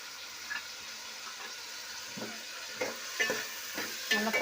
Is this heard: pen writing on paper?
no